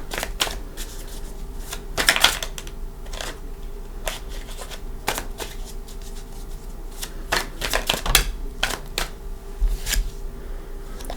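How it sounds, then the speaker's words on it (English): Tarot cards being shuffled by hand in repeated quick riffles and soft slaps, crisp and close, with short pauses between bursts. "we're going to shuffle for these"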